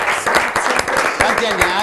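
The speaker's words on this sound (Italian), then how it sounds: "Ma noi facciamo un applauso lo stesso." A crowd at a regional martial arts event claps briefly, a close, busy rattle of applause with voices talking over it.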